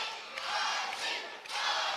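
A crowd at a live wrestling event at The MidFlorida Event Center in Port St. Lucie, Florida, roars and chants in steady swelling waves, loud and continuous throughout.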